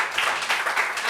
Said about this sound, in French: Applaudissements pour elle.